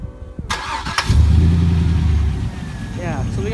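A car engine cranks and catches after a brief click, then settles into a steady low running hum, with people talking over it while newly fitted LED headlights are switched on.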